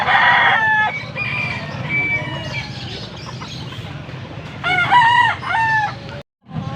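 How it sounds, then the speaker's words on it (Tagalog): Chickens cluck while a rooster crows, with several rising calls near the end, over a busy background murmur at a poultry market in Pampanga, Philippines; no voices. "Dami lang dalang manok."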